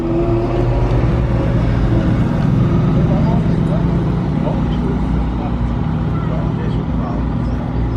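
A Mercedes SLR McLaren hypercar with six exhausts roars past on a closed road, its loud, continuous low engine rumble filling the whole stretch alongside crowd babble.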